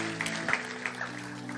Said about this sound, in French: Applaudir le Seigneur